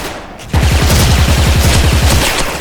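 A suppressed M4A1 rifle with a basketball skin fires in the online shooter Special Force, a loud, rapid automatic burst of about two seconds that starts abruptly after a short, quieter moment.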